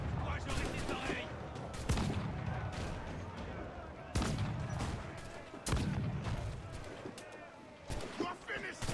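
Repeated gunfire bursts and booms from a shooter video game, irregular shots scattered across the stretch over a dense game soundscape, with a voice talking throughout.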